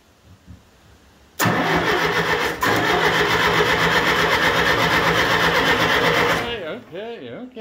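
An old Hercules D2300 diesel engine, left unused for more than ten years, cranks and catches after a quiet stretch, then runs with a loud, steady, rapid clatter for about five seconds before winding down, with voices around it.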